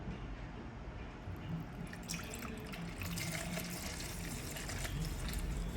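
Diesel pours through a fuel filter for a diesel pump into an empty container, making a soft, continuous liquid trickle with faint drips that swells slightly halfway through.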